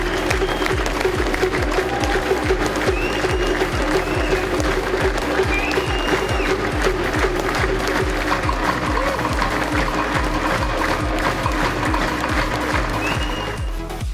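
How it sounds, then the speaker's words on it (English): An enthusiastic crowd at the 2014 Labour Party congress in New Zealand applauds a keynote address with dense, sustained clapping that fills the hall for about fourteen seconds. Low rhythmic thumps run steadily beneath the clapping. "Cunliffe was welcomed by an extremely enthusiastic crowd for his keynote address."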